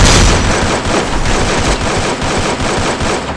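Rapid, loud automatic gunfire in a video game training round as a player shoots down an enemy hacker, with dense continuous bursts and no talk.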